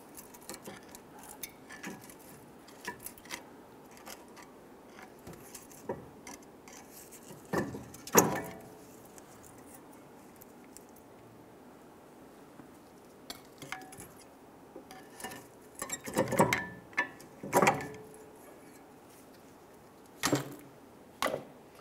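Brake pads being worked out of the caliper on a 2005-2010 Chrysler 300, sparse metallic clinks, scrapes and rattles of pads and tools at close range, separated by quiet gaps.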